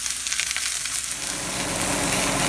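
Sausages sear in a hot pan for a bolognese sauce, giving a steady, close sizzle that grows fuller and louder toward the end, with no voices.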